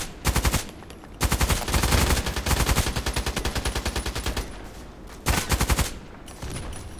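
An FN SCAR-L assault rifle fires in the Contract Wars video game, loud rapid bursts of automatic gunfire separated by short pauses, with one longer sustained string of shots in the middle.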